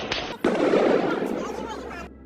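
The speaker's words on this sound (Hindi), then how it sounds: "आगजनी, तोड़फोड़, नारेबाजी और फायरिंग की आवाजें सुनाई दे रही हैं।" Gunfire during street protests in Iran: a sharp, loud crack followed by a sustained roaring burst of noise that fades after about two seconds, with talk blended in.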